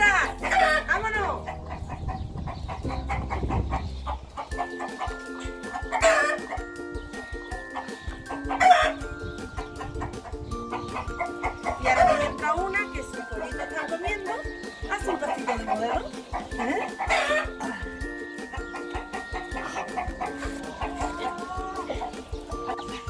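Hens cluck steadily nearby with a rooster crowing now and then, while a person speaks and calls to the birds over the farmyard noise.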